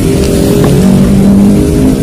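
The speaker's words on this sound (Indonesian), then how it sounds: "Kita udah nyalain mesin starter." A motorcycle engine idles steadily right after being started with the starter, a close, continuous low rumble with no speech over it.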